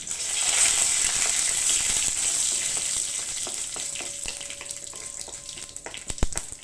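Chana dal frying in hot oil in a tempering pan, with a bright, continuous sizzle that slowly fades, joined later by a few sharp clicks and taps.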